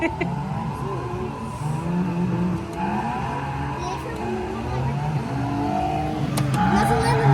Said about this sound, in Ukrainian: Я ж газую